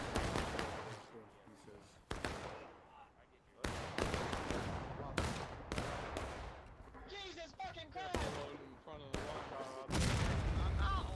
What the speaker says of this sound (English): Keep firing, boys. Keep firing. That's 2 companies out there. Oh my God, they're doing volleys.